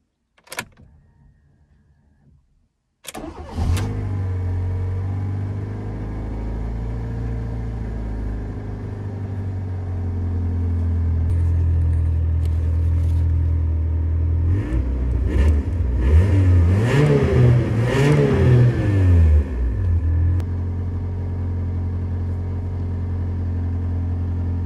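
A Fiat Panda 4x4 engine cranks and fires after a wiring harness repair, then settles into a steady, loud idle with a few rising revs partway through.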